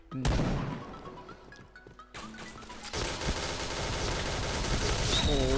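Gunfire in the online shooter Point Blank while a player jumps and shoots: a sharp opening shot, then scattered shots, then a sustained rapid rattle of automatic fire, with someone talking over the action.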